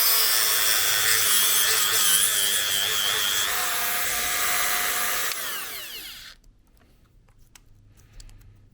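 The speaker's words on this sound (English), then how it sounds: "I need to grind this lug off because that's in the way" A power grinder cuts a lug off an RC wheel hub with a loud, continuous high whine and rasp. The motor then cuts off and spins down, leaving a few faint handling taps.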